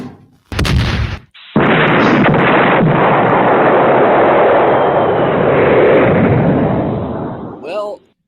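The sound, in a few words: cannon firing sound effect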